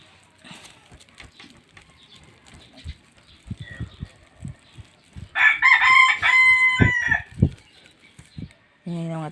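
A rooster crows once loudly nearby after scattered clucks and soft background noises, followed by a short squawk at the end.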